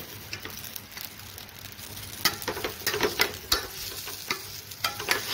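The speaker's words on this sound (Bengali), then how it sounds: "সব সবজি দিয়ে আমি ভাজবো একটু" Mixed vegetables for moong dal and tulaipanji rice khichuri sizzle steadily in a hot pan, with repeated scraping stirs growing busier and louder partway through; no one speaks.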